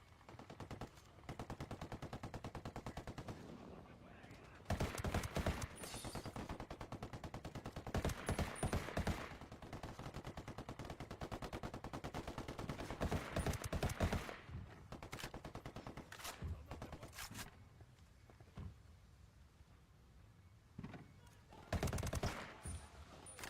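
A Ghost Recon firefight rages with sustained automatic gunfire, long rattling bursts and clustered shots broken by short pauses, loud and continuous for most of the stretch, with occasional voices underneath.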